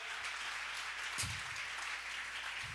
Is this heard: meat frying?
no